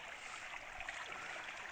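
Spring water in a Himalayan village runs in a soft, continuous trickle and splash at a spot rigged for filling bottles, faint and steady with no speech.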